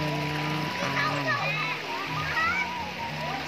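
Children splash and play in clear river water at Cireong, Ciamis, with a voice chattering over continuous sloshing and splattering close by.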